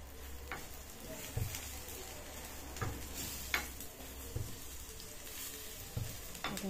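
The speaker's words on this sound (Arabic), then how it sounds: "نديرو الدجاج نقليوه شويه" Chicken pieces fry in hot oil with onion in a tagine, a continuous soft sizzle punctuated by periodic clinks and scrapes of stirring against the pot, fairly quiet and close.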